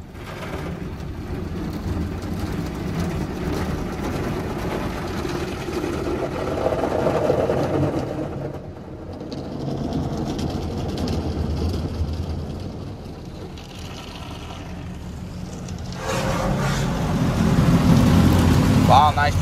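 Water wand blasting at high pressure in a tandem ProTouch automatic car wash at an HEB on Grant Road, Cypress, Texas: a loud, steady hiss and rush that swells near the end, with someone talking over it.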